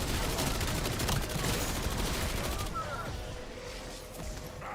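Sokol LMG firing in Black Ops 7 Zombies, a dense sustained burst of rapid automatic gunfire mixed with game effects that tapers into quieter ambience, with brief voice in the background.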